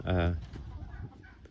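Turkey hen and other farm birds give a loud, harmonic clucking call up close, followed by softer scattered clucks and yard noise.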